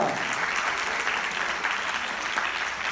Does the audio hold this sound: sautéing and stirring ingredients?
no